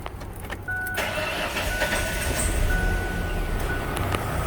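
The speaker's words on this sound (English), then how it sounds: "Now it's going to run even worse because now it's only going to run on 2 cylinders." A car engine cranks and catches, then idles roughly while firing on only two cylinders, a steady uneven running note close by with no voices.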